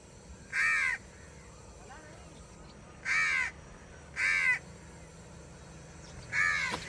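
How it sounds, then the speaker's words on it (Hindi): A crow caws four times, loud and clear, with uneven gaps between the harsh calls over a quiet outdoor background. "यहाँ पे कौवे बोल रहे थे"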